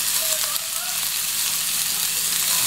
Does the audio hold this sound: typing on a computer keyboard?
no